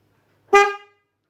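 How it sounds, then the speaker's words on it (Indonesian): A single short, loud blast of a Denso snail-type car horn, a bright brassy honk lasting under half a second, alone against silence. "laksonnya ini saya ganti lakson Keong Denso ya. Coba kita pencet,"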